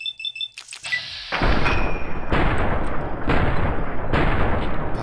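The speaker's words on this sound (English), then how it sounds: "Ah, I was shooting that rock." Gunfire in Fallout New Vegas with the Old World Blues mod: a short burst of small clicks and chimes, then loud, close shots repeating at roughly one-second intervals, each followed by a sustained rumbling boom.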